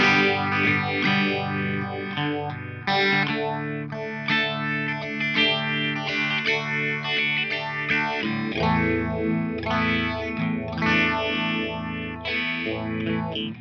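Electric guitar plays chords and riffs through an MXR Phase 90 phaser pedal in script mode, giving a swirling, whooshing tone throughout, with no talking.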